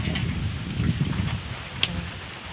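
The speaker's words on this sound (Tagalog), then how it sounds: "May konting hangin pa." Low, blustery wind on a mountain rumbling against the microphone outdoors, steady with slight gusts and a brief sharp knock partway through.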